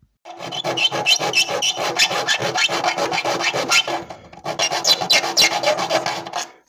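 Rhythmic rasping strokes of a hand tool squaring off drilled holes in wood, close and steady, in two long bursts separated by a short pause.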